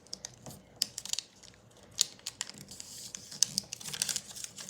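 Origami paper being folded on a table: crisp, close clicks and rustles as the sheet is creased, arriving in irregular quick bursts with short pauses between folds.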